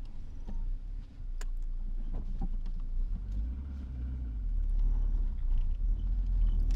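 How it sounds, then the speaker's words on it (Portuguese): A car engine hums steadily from inside the cabin of a parked car in a garage, a low continuous rumble with a faint higher whine, with no talking. "Cá dentro não fosse o barulho mais agudo do motor"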